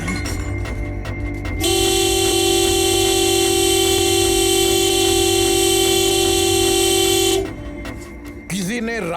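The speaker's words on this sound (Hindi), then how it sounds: "ऐसे हॉर्न क्यों बजा रहे हो?" A loud, sustained car horn blares steadily for several seconds, with traffic rumble before and after and a brief voice at the end.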